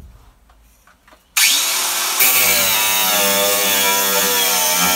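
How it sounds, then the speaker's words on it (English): A cordless angle grinder starts abruptly after quiet handling and cuts into a camp trailer's metal frame, a loud sustained high whine that holds steady to the end, close up. "it was time to pull out the angle grinder"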